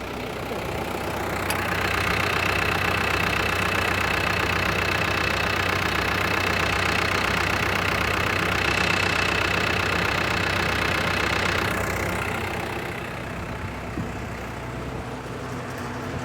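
A New Holland TL-90 turbocharged diesel tractor runs steadily at close range, a loud continuous drone with a faint turbo whine that rises slightly, holds, then eases back toward the end.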